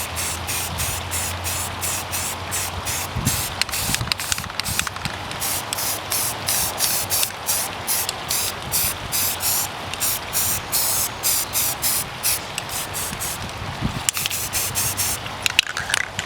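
Spray paint being applied in a flat colour to one side of an airsoft sniper rifle, a close hissing spray in many short rhythmic bursts throughout.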